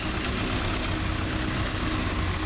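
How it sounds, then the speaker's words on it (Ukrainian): A small tractor engine clearing snow idles with a steady, rough mechanical drone, faint and continuous, with no voices. "Один тракторець"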